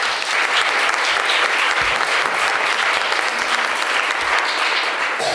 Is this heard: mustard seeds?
no